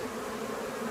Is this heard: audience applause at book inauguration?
no